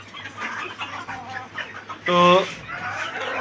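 Malaysian serama chickens, a tiny bantam breed, clucking in a homemade cage, soft scattered clucks with one louder, clear call in the middle, heard close under brief talk.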